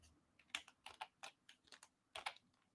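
Computer keyboard keys typed in short irregular bursts of crisp clicks, close and fairly quiet, with no voices.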